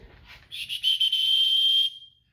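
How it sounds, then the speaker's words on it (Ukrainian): A single shrill whistle blast from a STARK L-1-03Li flashlight's built-in whistle, high and piercing, lasting about a second and a half, close and loud, with a brief breathy start. "ось тут є у нас свисток. Ось так він свистить."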